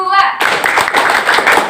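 Students in a classroom clap along in rhythm during a microteaching practice session; after a short spoken cue, a crowd of hands claps loudly in a quick series of close, overlapping beats.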